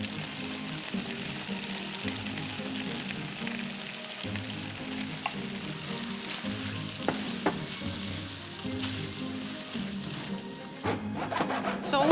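An egg mix being stirred into carbonara pasta in a pan, giving a steady soft sizzle with continuous scraping and stirring noises and a few faint clicks of the utensil, close and moderately quiet.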